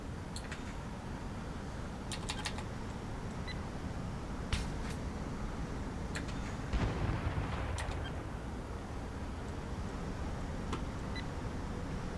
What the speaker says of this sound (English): I'm gonna try and bomb these things.